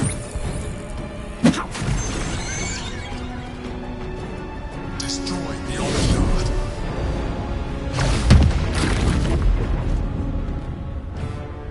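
An altar is smashed apart in Baldur's Gate 3, with heavy booming crashes and impacts standing out at a few separate moments over a steady, busy game soundscape.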